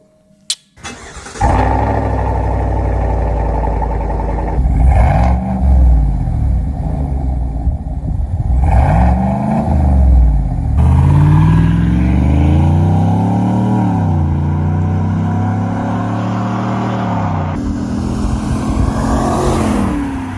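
A Chevy Silverado 5.3 V8 fitted with a Borla Atak crate muffler exhaust starts up, then revs repeatedly in loud, deep swells over a steady idle, with no talking.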